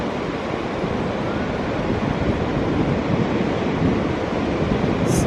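Ocean surf at Wimarama Beach, New Zealand, at sunrise makes a steady, broad roar of waves, loud and unbroken, with some wind noise mixed in.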